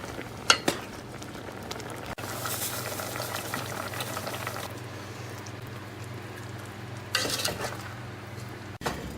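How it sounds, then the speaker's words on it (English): Fig jam with sugar and lemon bubbling and cooking down in a pot, a steady soft simmering hiss with a few clinks of a utensil against the pot, close and moderately quiet, with no talking. "So we're still cooking down the jam, the fig jam."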